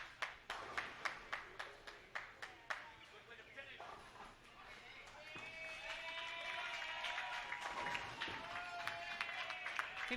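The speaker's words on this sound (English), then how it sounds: "He must have a cheering section back there." Scattered hand claps followed by a soft wash of applause and light cheering from spectators at a bowling tournament, distant and quiet, with voices murmuring underneath.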